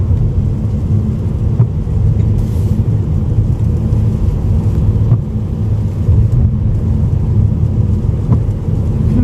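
Steady rain drumming on a car while driving through Seoul traffic toward Seongsan Bridge, a dense low rumble of road and engine with faint patter throughout, no one speaking.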